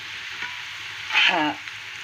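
Oil sizzling steadily in a pan as diced onions fry in unscented oil, with a brief louder hiss midway as they are stirred.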